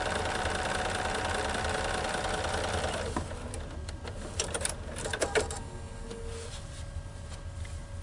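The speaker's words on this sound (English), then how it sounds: "So I'll sew all of my curves like this, and then we'll square these blocks up." A sewing machine stitches a curved seam on a log cabin quilt block, a steady fast whir that runs continuously and then gives way to quieter handling sounds and soft clicks.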